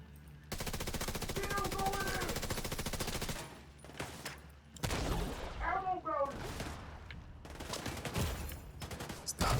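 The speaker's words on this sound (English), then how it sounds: "Stop shooting me." Video game gunfire in loud, sustained automatic bursts with pauses between volleys, close and dominant, with a voice speaking in the gaps.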